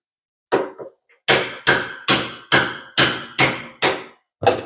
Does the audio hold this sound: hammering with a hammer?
yes